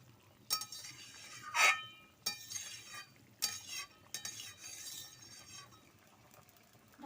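A metal utensil clinks against a pot of simmering fish and potato curry, sharp separate knocks spaced irregularly with quiet pauses between them.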